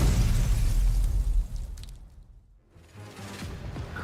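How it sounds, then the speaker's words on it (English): A deafening explosion from GFL2 Exilium bursts out with a heavy low boom, then dies into a hollow, debris-laden quiet before a faint rumble returns. The blast sounds close, with no voices. "Once again, there is another deafening explosion."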